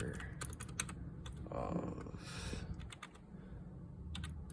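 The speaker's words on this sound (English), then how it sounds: "when you first type in on Google" Quick bursts of keystrokes on a computer keyboard, clicking in short irregular runs under quiet talk and close to the microphone.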